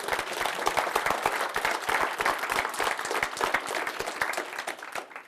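An audience claps steadily at a Freedom From Religion talk, a dense, continuous wash of many hands close by that holds evenly and starts tapering toward the end.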